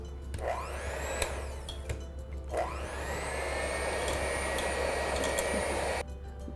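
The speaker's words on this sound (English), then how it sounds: "Once we get it traced, we're going to switch to the mixer with the dough hooks." An electric mixer fitted with dough hooks churns cream soap batter, a steady close motor whine that rises in pitch twice as it spins up, running continuously before cutting off near the end.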